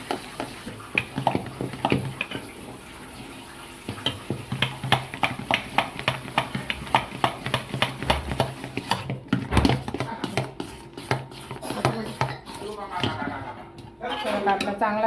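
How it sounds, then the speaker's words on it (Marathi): A whisk beats baking soda and a little water in a bowl for khaman dhokla, making a long run of rapid, rhythmic clinks and taps against the bowl's side that quickens toward the end. "पाणी हे करायचं आणि फेटून घ्यायचं"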